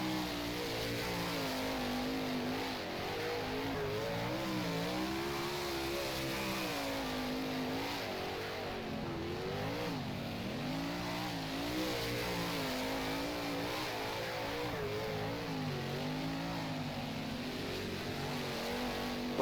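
A sprint car engine races on a dirt track in the rFactor racing game, droning loudly and steadily as it revs up and down through the corners for the whole stretch, with no talk.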